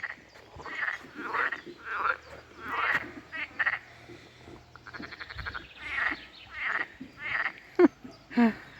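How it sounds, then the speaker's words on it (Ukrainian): Frogs croak repeatedly in bursts beside the Vorskla River, fairly close and clear, with a steady rhythmic chorus and no talking. "Ви чуєте, як жаби квакають тут?"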